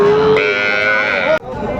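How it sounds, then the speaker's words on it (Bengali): A three-month-old bull calf moos loudly and close up at a cattle market in Dinajpur, one drawn-out tonal bellow lasting over a second before it cuts off, with market murmur behind. "কোয়ালিটি সম্পন্ন একটা ষাঁড় বাচ্চা।"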